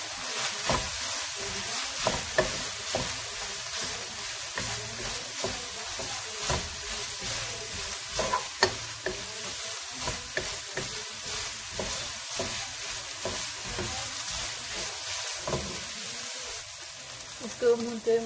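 Minced meat keema filling with ground chili, salt and onion fries and is stirred in a pan, a steady close sizzle broken by scraping stir strokes. No one speaks.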